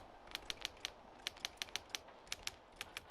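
Typewriter keys struck in an irregular run of about fifteen sharp, close clacks over a low room hiss, in a quiet noir-style office scene with no talking.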